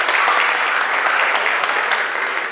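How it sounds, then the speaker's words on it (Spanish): An audience applauds at a book launch during the seventh Azcapotzalco book fair, with steady dense clapping that stays loud and close for the whole stretch. "Gracias, María Elena Solórzano, un aplauso más para ella."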